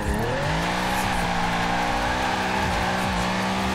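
A Mercedes G65 AMG in the Forza Horizon 4 racing game revs hard while drifting, a loud, steady engine drone with shifting pitch and faint tire squeal throughout.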